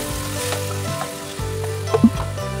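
Chopped tomato pieces stirred into egg curry masala frying in a pan, with steady sizzling and a few scraping spoon strokes, fairly close and with no talking.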